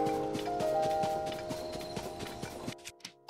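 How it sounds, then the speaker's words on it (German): Steady clip-clop of horse hooves in The Legend of Zelda: Tears of the Kingdom, a regular trotting rhythm with a constant tonal game hum underneath, fading to quiet near the end. "Wir holen uns das Pferd."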